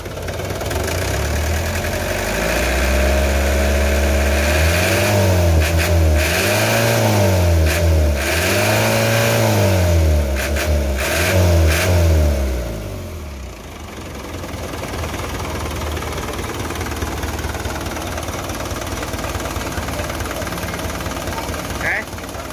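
A 1997 Suzuki Ragasa 120 PS engine revving hard several times in rising and falling sweeps, then settling to a steady idle rumble, loud and close.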